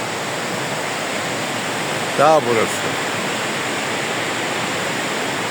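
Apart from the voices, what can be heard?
waterfall flowing from mountain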